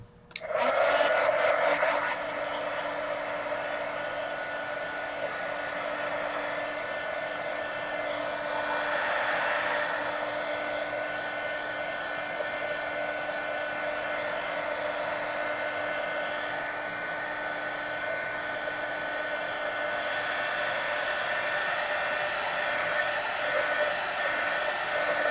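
A hair dryer blows steadily close to the mic, drying paint on a large mixed media collage poster, a loud continuous whirring roar that starts abruptly and holds for the whole stretch with slight shifts in pitch.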